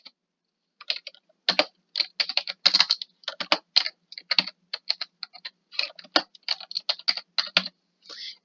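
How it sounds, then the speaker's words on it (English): Card number typed on a computer keyboard, a quick uneven run of crisp, close key clicks with brief pauses between groups of keystrokes. "So I'm going to put my card number in."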